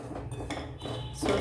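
Dry semolina toasting over very low heat in a pan for sweet ghughara filling, with close metal spoon scrapes and light clinks against the pan, steady throughout and a bit louder near the end.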